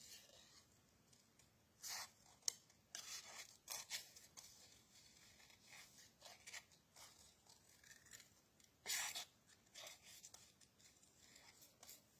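Scissors snipping through a folded paper card, the paper turned while the blades stay put; quiet, irregular cuts and rustles with a sharper burst near the end, no voices.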